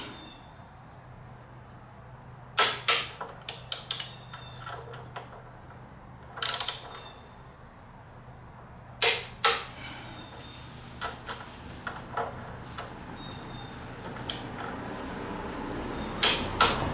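A torque wrench tightens the fork bolts on a Honda VTX 1300R motorcycle, giving sharp metallic clicks in scattered clusters, some loud and close and others softer, over quiet background hum.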